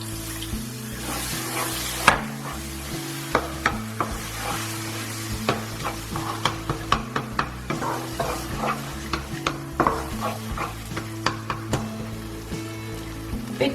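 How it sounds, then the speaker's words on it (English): Chicken tikka masala sauce sizzles steadily in a pan as water is poured in and stirred, with frequent sharp scraping and tapping clicks of the spoon over a dense, continuous frying hiss, close and fairly loud, no talking. "I'm just going to add a little bit of water."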